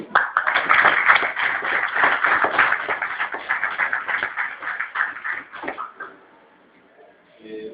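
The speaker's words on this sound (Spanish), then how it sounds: "Fuerte aplauso." Strong applause for a speaker at an economic history lecture, dense steady clapping from an audience that carries for about six seconds, then fades out and leaves near quiet.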